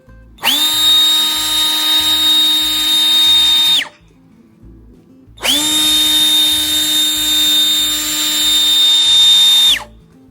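A DeWalt battery blower drying water droplets off a car runs in two long bursts of about three and four seconds, a loud, steady high-pitched whine with a short pause between.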